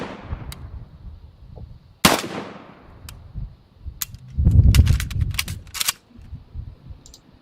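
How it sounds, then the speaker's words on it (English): Gunfire and a fast reload in a video game: a single sharp shot followed by a series of quick mechanical clicks and clacks, close and moderately loud, with no talk. "this is the second part where I show you just how quickly Clunk can reload these things"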